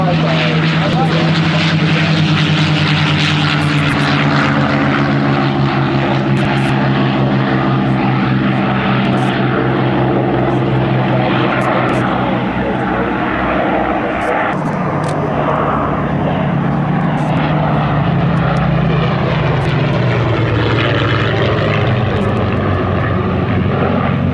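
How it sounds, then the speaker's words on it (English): The B-17 bomber Sally B, a four-engine propeller aircraft, drones loudly and steadily with a deep throbbing roar as it flies past at the Duxford air show, while a commentator talks over it. "Now the B-17 Sally B is operated here at Duxford as a flying memorial"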